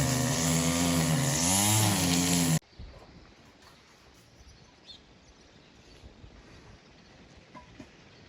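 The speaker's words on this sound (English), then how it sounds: "He brought his own weed whacker." A string trimmer whines loudly outdoors for a couple of seconds, its pitch wavering, then cuts out abruptly, leaving quiet outdoor ambience with faint birds.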